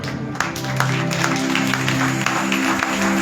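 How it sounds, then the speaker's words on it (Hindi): Church congregation on Mother's Day claps for the mothers standing among them, with steady applause under a held musical tone throughout. "जोरदार ताली बजाएंगे।"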